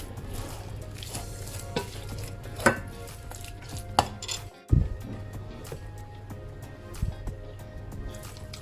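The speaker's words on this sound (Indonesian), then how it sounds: "kita masukkan telurnya dikit-dikit ya sambil diaduk" Choux pastry dough stirred by hand in a bowl as eggs are added, with soft scraping and wet stirring punctuated by a few sharp clinks of a utensil against the bowl, close and fairly quiet, with no talk.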